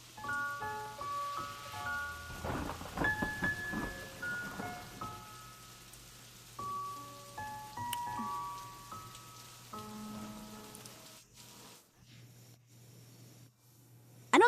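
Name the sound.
rain with thunder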